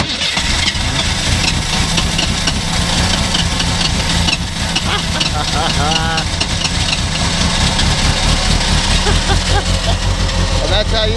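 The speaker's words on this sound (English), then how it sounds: "that's how you make an 85 notchback with the original engine fire over that's been sitting for probably almost 9 years" The original engine of a 1985 Ford Mustang notchback, left sitting for years, runs right after being fired up, with a loud, rough, steady idle up close and people talking over it.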